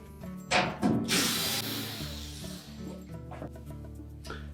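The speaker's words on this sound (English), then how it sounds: "remove these two screws that secure the main top to the cabinet. A 1/4 inch hex head screw" Quarter-inch hex head screws being backed out of the top panel of a GE washer, a few short whirring bursts from a power driver and metallic clicks close by, with a quieter tail of handling noise.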